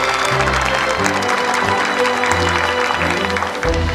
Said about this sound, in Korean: 좋은 말씀 들려주신 두 분께 다시 한번 따뜻한 박수 부탁드립니다